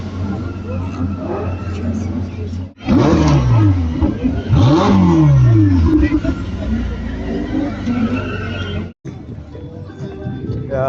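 A car engine revs hard while drifting at an outdoor mall car show, a loud sustained roar with rising and falling sweeps and tire noise, dropping out briefly, with voices talking nearby.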